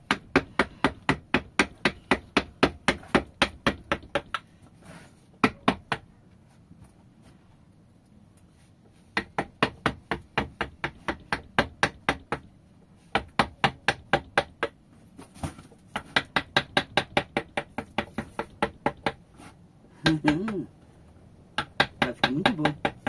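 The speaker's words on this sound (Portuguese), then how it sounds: "Eu estou entalhando uma mula." Hand carving of a wooden mule, with bursts of sharp, evenly spaced hammer blows on a chisel, clustered in rapid runs separated by brief pauses, loud and close.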